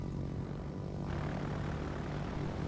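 Rocket planes in the World of Warships naval combat game, with a steady propeller aircraft engine drone that holds at an even level throughout.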